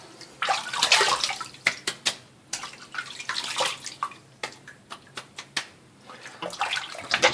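Water running and splashing in a sink as a face is moistened before a straight razor shave, with irregular close splashes and trickles over several seconds.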